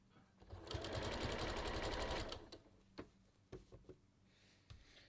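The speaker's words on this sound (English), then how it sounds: "I'm going to start stitching." Sewing machine stitching a kangaroo pocket onto a top, a steady rapid whirring run for about two seconds, then stopping, followed by a few scattered clicks and handling taps.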